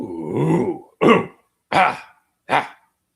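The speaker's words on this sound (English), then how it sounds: "Let me clear my throat." A man clears his throat in a rough, guttural burst followed by three short, sharp ahem-like grunts, each close and loud with brief silences between.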